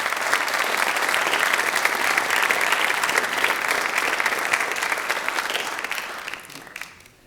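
An audience at a school Tri-M music honor society induction ceremony gives a sustained, dense round of applause that holds steady for several seconds before tapering off at the end.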